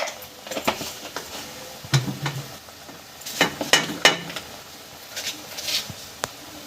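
Spices with panch phoron, fennel and about one and a half spoons of turmeric are stirred in a frying pan for Bengali dudh shukto, making scattered scrapes and light clinks over a soft sizzle, close by and without talking.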